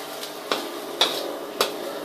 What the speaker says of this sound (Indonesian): sambil terus diaduk-aduk.